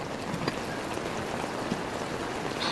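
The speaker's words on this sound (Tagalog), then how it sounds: "So guys, it's raining." Steady rain falls close by as a dense, even hiss with scattered droplet taps throughout.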